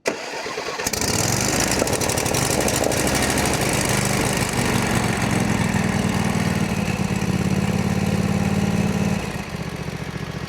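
Kawasaki Mule utility vehicle engine cranking and catching after a tune-up, then running steadily at a loud, close idle with a constant rumbling drone.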